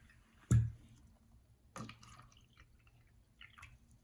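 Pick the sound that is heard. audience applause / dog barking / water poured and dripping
water poured and dripping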